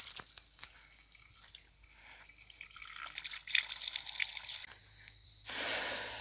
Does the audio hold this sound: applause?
no